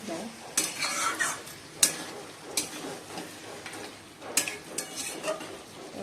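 Food sautéing in a pan, with spatula strokes scraping and clinking against the metal in irregular bursts over a low frying sizzle, close and without speech.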